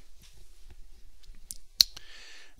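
A computer mouse in a 3D Slicer medical imaging session gives a few sharp, close clicks over a near-silent background, with one louder click standing out.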